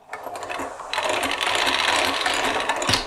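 A hose reel's rapid mechanical ratcheting clatter, close and fairly loud, running steadily for a few seconds with a sharper click near the end.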